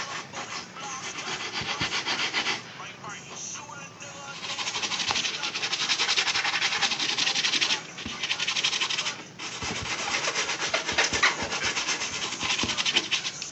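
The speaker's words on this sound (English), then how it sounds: "And you just keep scraping it." Dye scraped off the surface of diamond turf, a harsh continuous rasping scrape in long strokes with brief pauses, close and steady, with someone talking intermittently over it.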